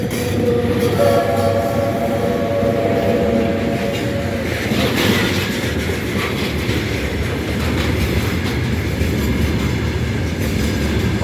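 A heavy freight train rumbles steadily past close by at Irpin station platform, a continuous loud roll of wheels and cars with occasional rattles and squeals.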